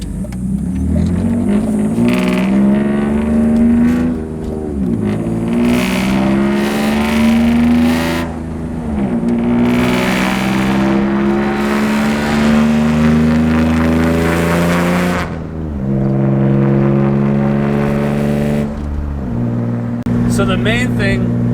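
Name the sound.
BMW E36 engine revving with badly built exhaust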